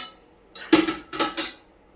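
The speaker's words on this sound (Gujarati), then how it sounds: "હવે આમાં આપણે બધું જે લીધું હતું ગુંદ ને કોપરાનું છીણ, ખસખસ એ બધું મિક્સ કરી દેશું" A few quick scraping clinks of a spoon in a pan as edible gum, grated coconut and poppy seeds are mixed together, two short bursts close by with no talking.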